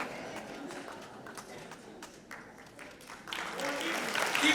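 Applause from an audience at a book unveiling, swelling louder toward the end after a quieter stretch of scattered noise and voices.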